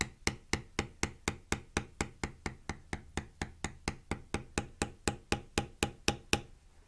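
A poly maul striking a leather beveler on leather, about two dozen evenly spaced sharp taps in a steady rhythm, close and distinct with no talk.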